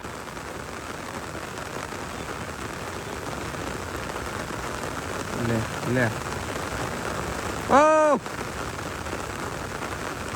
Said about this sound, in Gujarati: દુનિયાનો વરસાદ આવે, આમ જુઓ પાણી ટપકાઈ ગયું ખેતરોમાં